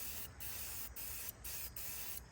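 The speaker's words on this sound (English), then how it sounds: "It's spraying all out of top, out of bottom." A spray can hisses adhesive promoter onto a Chrysler 300C front bumper in short, loud bursts broken by four brief pauses.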